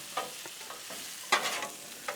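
Potatoes being stirred with butter and a seasoning rub on a Blackstone griddle: a close, steady sizzle broken by scraping strokes of a utensil at an irregular rhythm.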